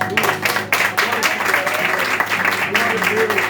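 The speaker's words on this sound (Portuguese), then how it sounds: "Se puderem aplaudir Jesus." Church congregation applauding during a sermon, dense continuous clapping from a crowd filling the room, with voices and faint tonal sound mixed underneath.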